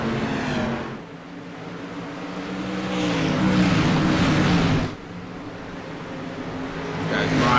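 Race cars roaring around the Eldora dirt oval, engine drone swelling and fading as cars pass, loud and continuous with a commentator talking over it.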